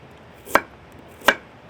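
A knife chops through a peeled carrot on a cutting board, two sharp separate strikes about three-quarters of a second apart, close and clear against a quiet kitchen background.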